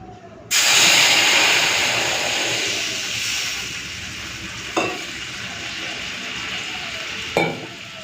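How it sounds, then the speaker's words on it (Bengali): Mustard paste mixed with water poured into hot oil in a pan, bursting into a loud, steady sizzle that slowly eases, with a couple of brief clatters of utensils near the end. "এখন ঢেলে দিচ্ছি একটুখানি সর্ষে বাটা জলটা"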